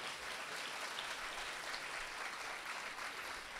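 A church congregation claps in sustained, even applause, a dense wash of hand claps heard alone at a steady level throughout.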